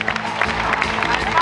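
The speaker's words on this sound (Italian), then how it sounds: "a Velucci, un grande applauso." Applause from a concert audience at a show finale, a dense continuous clapping and crowd noise mixed with someone speaking over the sound system.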